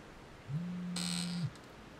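A cell phone rings in the ghost hunting game Obsideo, a single low electronic buzzing tone of about a second with a brighter chirp layered over its middle, faint against quiet room ambience.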